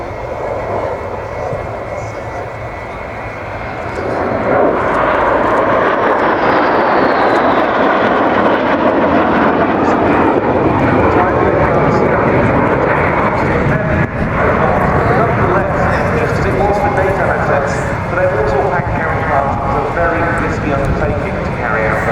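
A Sukhoi Su-22 Fitter jet makes a low pass at the RIAT 2014 airshow, its engine roar swelling from moderate to a loud, sustained rumble that fills the rest of the clip, with a commentator speaking over it.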